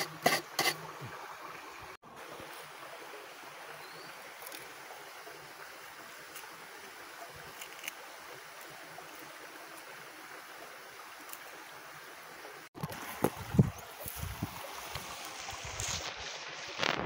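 Water of the Kalinasan River flows in a steady, broadband rush that runs continuously, with a few louder splashy bursts near the start and end and no voices.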